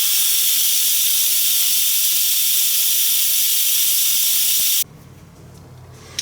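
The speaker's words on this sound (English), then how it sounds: "Now I have to do a quick release. So I need to release the pressure" An Instant Pot doing a quick pressure release after cooking a pork roast sends out a loud, continuous, close steam hiss for almost five seconds, then cuts off abruptly, leaving quiet kitchen background and a small knock.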